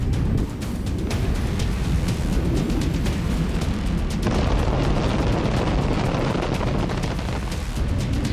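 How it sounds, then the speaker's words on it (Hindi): A bunker buster bomb explodes at Isfahan, its dense, roaring blast rumbling loud and continuous for several seconds. "यहाँ बंकर बस्टर बम से हमला किया गया"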